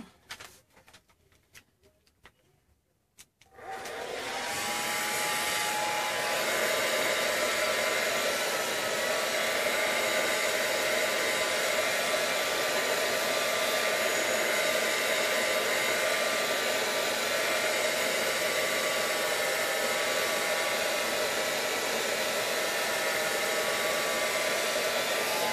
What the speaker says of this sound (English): Just a second, you guys, you're going to hear the blow dryer.